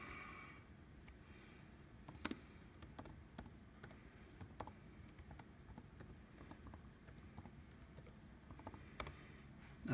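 Steady typing on a computer keyboard at a Java runtime setup, close and quiet, irregular key clicks with occasional harder taps over faint background hiss.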